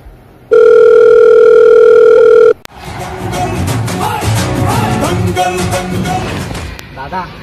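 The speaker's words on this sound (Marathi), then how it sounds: "दादा फोन असतोय तुमचा मग वाजू दे ना" A mobile phone rings with a loud, sustained electronic tone for about two seconds, then cuts off abruptly and gives way to a busy, dense background of music-like sound.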